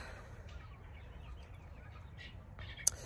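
Chickens cluck softly in a backyard as they scratch and dig through a compost pile, scattered low calls over a quiet outdoor background, with one sharp click near the end.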